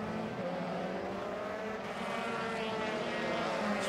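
A Euroformula Open race car accelerating hard out of the final hairpin at the Jerez circuit in Spain during qualifying, a steady loud high-revving engine whine that rises slightly as it pulls away.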